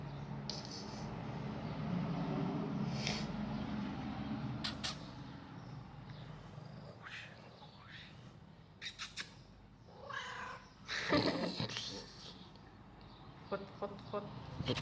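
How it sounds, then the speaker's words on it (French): A small cat at a hotel in Georgioupolis, Crete, gives a few short meows amid outdoor ambience, with people talking nearby and a passing vehicle hiss. "On s'est fait une copine. Le petit chat."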